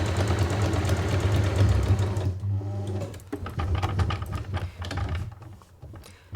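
A sewing machine runs a 3 mm wide, 2 mm long zigzag stitch on a zipped make-up bag: a steady humming, whirring run that stops after two seconds, followed by a few short, rattling bursts and clicks.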